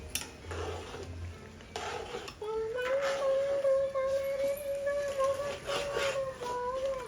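Ghee sizzles in a pan as it is stirred, giving a soft steady fry with scraping and clinks of a utensil, while a sustained tonal whine rises partway through and carries to the end.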